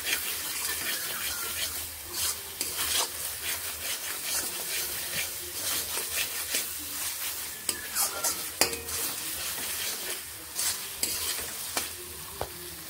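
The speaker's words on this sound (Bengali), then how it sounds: "ভালোভাবে এইভাবে মশলা কষিয়ে নিচ্ছি" Spices for dhaba-style ghughni are stir-fried in a pan, crackling and sizzling with repeated scraping strokes of a spatula, scattered sharp clicks and rubs over a continuous frying hiss, moderately close.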